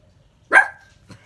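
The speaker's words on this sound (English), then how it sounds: "That's my dog." A single sharp dog bark, close and fairly loud, followed by a fainter short yip about half a second later, in an otherwise quiet indoor space.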